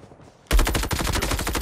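Shotgun fire in a first-person shooter video game: after a quiet half second, a loud burst of rapid, repeated blasts starts abruptly and keeps going without pause to the end.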